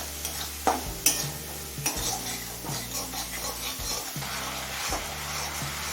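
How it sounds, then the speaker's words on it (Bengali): Spices including cumin powder, radhuni paste and salt are stirred and fried in a pan, with a soft steady sizzle under repeated scraping strokes of a spoon against the pan, close up. "এবারে সমস্ত মশলা ভালোভাবে কষিয়ে নেব।"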